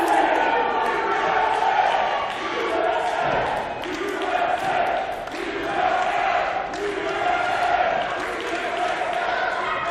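An arena crowd chants USA in a loud, steady rhythmic swell at a wrestling event, the repeated chant rising and falling across the whole stretch with broad roar underneath.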